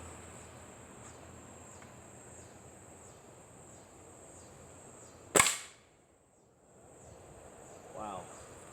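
A Bemin nickel-plated airgun fires one pellet in a sharp, loud crack partway through, with a faint distant thud after it, set against a steady chorus of crickets outdoors.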